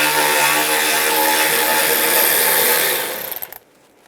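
A power tool runs steadily on a 10mm socket, loosening a bolt on the coolant reservoir of a 2007-2013 Chevy Silverado, then winds down and stops near the end.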